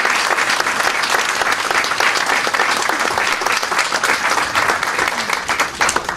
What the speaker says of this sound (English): Please give a big massive round of applause to Mrs. Patricia Mycool.